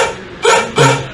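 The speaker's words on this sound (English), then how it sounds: "Can everybody hear the barking?" A dog barks twice in quick succession on a live variety-show stage, two loud, close, rough yips about a third of a second apart, with no talking over them.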